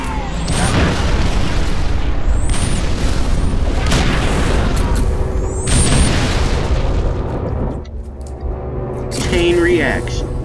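Explosions in Halo Reach, repeated loud booming blasts and rumbling bursts with scattered game effects, heard under a voice talking.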